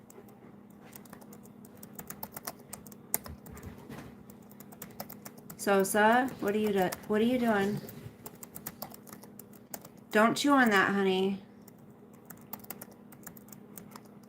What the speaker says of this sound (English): I'm practicing my typing so I can get, there's a job I want to get.